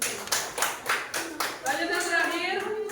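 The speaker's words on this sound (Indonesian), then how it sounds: "Tepuk tangan dulu" A classroom group applauds a student team with several seconds of steady, fairly loud clapping from many hands, with some voices mixed in.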